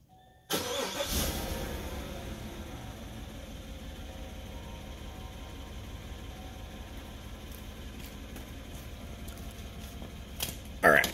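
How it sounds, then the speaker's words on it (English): A Chevy Silverado pickup of the 2014–17 model years cranks and fires up, then settles into a steady, moderately loud idle heard from close by, with a brief louder sound at the end. "We go start the car for you guys."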